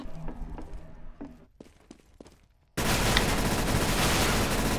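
Counter-Strike: Global Offensive gameplay starts with scattered sharp shots and footstep-like thuds, then after a brief near-silence a loud, dense roar of continuous gunfire and blasts fills the rest.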